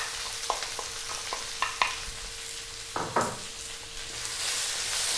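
Onion and potatoes with toasted garlic sauté in a pan, a steady sizzle broken by repeated scraping clicks of stirring, close and fairly quiet.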